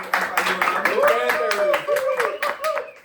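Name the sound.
audience applause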